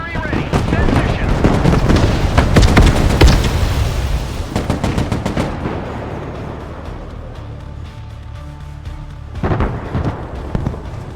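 Artillery and mortar strikes in the Broken Arrow video game land as a dense cluster of loud booming impacts and crackling blasts, then fade to a rumbling lull before a few more hits.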